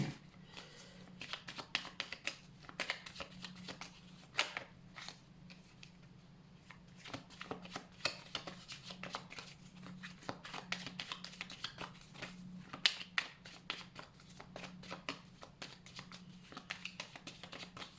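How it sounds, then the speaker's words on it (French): A deck of playing cards is shuffled during a thirteen-card tarot-style reading. Dense riffling and flicking carries on nearly the whole time, close up and fairly soft. "Allez, on va remélanger un petit peu pour voir."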